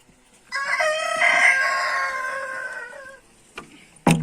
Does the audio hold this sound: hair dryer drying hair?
no